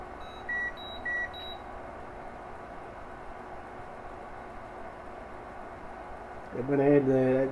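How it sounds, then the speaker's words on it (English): Thunder Power 820 battery charger rebooting after a firmware update, giving a few short faint electronic beeps over steady room hiss, followed by a voice speaking at the end. "the beeping you heard there, the charger rebooted itself after the update was complete"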